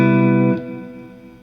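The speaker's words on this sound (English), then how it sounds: "the reverb, when I turn it on, is going to sound an awful lot like a delay" A sustained electric guitar chord rings out through a reverb pedal, then stops abruptly, leaving a delay-like reverberant tail that fades away gradually.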